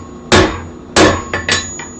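A hammer strikes a rivet to lock it in before reheating, in a blacksmithing setting: two loud, sharp metallic blows followed by three lighter, quicker taps, close and clear with no talking.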